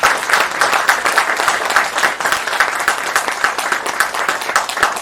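Steady, dense applause from an audience at a Gujarati lecture on Chanakya's teachings, loud and continuous throughout with no talk over it.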